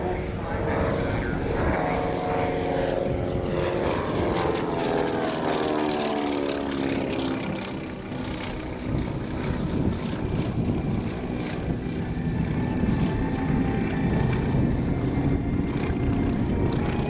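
A Beech CT-128 Expeditor twin-propeller aircraft passes at the 2024 ROC Airshow in Rochester, New York, with a loud, continuous engine and propeller drone whose pitch sweeps as it moves by, and a voice talking over it.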